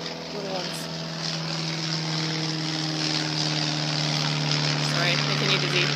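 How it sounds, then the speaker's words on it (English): A small propeller airplane passes overhead outdoors, a steady broad engine drone holding for several seconds with a constant low hum, under background noise and some faint activity. "Oh, here comes an airplane."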